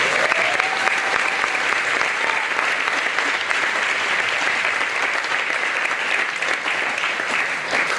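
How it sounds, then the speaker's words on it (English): Dense, steady applause from an elementary school Christmas concert audience clapping for the teachers, loud and continuous throughout, with a brief spoken word near the start. "Une bonne main d'applaudissements pour les enseignants pour leur support."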